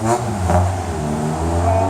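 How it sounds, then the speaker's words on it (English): Traffic passes along Front Street in a small town, a close, loud engine hum and rumble of a passing car holding steady throughout. "not so much the traffic on Front Street"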